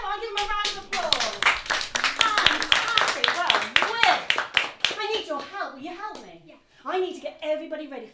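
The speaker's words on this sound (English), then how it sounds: "Come on, give him a round of applause." Applause from a small audience, with children's voices mixed in, gives a burst of rapid clapping at a home theatre gathering that thins out as kids chatter and call over it.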